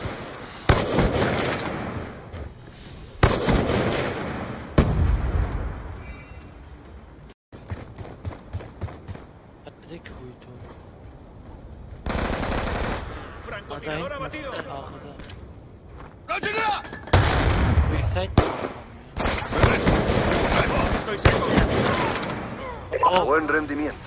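Gunfire in a shooter video game comes in sharp bursts and rapid automatic volleys, with loud single shots and quieter stretches where players talk over the action.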